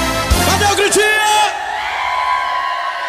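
A forró concert crowd in João Pessoa yells and whoops, loud bursts of shouting at the start that fade into a sustained ringing tone.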